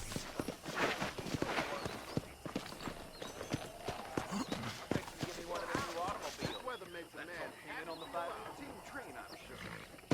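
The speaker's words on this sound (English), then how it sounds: "let's see if you can still ride a horse" Horse hooves clip-clopping in the Western video game Red Dead Redemption, rhythmic steps under game dialogue and ambient outdoor sound, with a voice talking over them.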